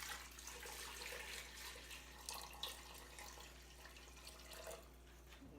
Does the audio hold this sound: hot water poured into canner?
yes